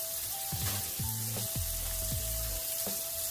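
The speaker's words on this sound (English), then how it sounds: "And I'm going to add our mushrooms." Red onions and baby bella mushrooms sizzle steadily in a hot pan for beef stroganoff, a continuous close frying hiss with a few louder crackles as the mushrooms land, no voices.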